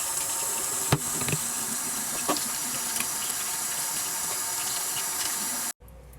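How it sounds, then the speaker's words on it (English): Tap water runs steadily into a sink while hands are washed beneath it, a close, even rush with a few small splashes and knocks before it cuts off abruptly near the end. "wash hands."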